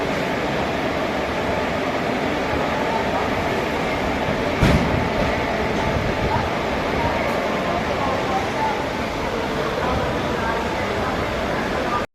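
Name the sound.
passenger train departing and running on rails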